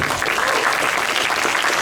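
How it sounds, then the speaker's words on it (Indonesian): Dense, steady applause from an audience at a public lecture fills the whole short stretch at close, even loudness with no pauses. "Maaf, tidak perlu tepuk tangan"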